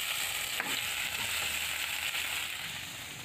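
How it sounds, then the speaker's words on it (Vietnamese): Wasps frying in a pan for a rice porridge dish, giving a steady, loud sizzle and crackle close by with some stirring, no voices. "Giờ mình cháy ong."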